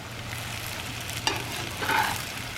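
Potato hash fries, halfway between hash browns and french fries, sizzle in a cast iron skillet with a soft, steady crackle and a couple of brief stirring clicks, heard up close.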